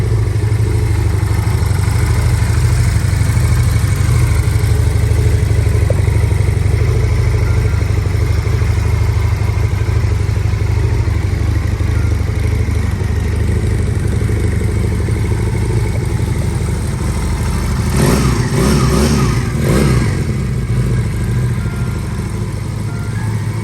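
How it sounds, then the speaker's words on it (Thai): A GPX Legend 250 Twin III, a 2022 two-cylinder 250 cc motorcycle, runs steadily with a close, continuous engine drone and slight mechanical clatter, and a few short revving pulses near the end. There is no talk. "เป็นเครื่องยนต์ 250 ซีซีนะฮะ เป็น 2 สูบเสียงจะเล้าๆหน่อย"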